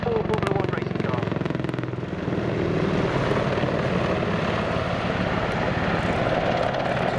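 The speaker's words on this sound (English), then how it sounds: "This move demonstrates the awesome power of the two turbomeca engines mounted either side of the fuselage" An Apache helicopter powered by two Turbomeca engines roars through a manoeuvre at an RAF Cosford air display, its rotor thumping rapidly under a steady turbine whine, loud and continuous, with a commentator talking over it.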